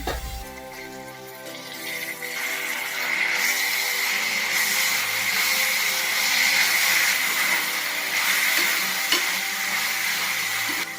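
Fenugreek leaves fry and sizzle in a pan for a village-style curd pulao, a loud, steady hiss that swells after the first seconds and holds for about eleven seconds, with occasional faint stirring clicks.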